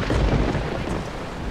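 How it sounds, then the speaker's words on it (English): Thunder rolls during a rainstorm, a low rumble at the start fading into steady rain noise, moderately loud, with no talking. "I used to be scared of storms, too."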